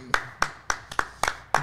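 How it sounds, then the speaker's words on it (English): Six sharp, separate hand claps in a slightly uneven rhythm, close to the microphone and loud against a quiet background, coming from one person in a sports talk show setting. "Clap that up."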